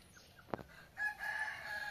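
Chickens in a henhouse with a short sharp squawk, followed by faint clucking and calls at a distance, with no talking.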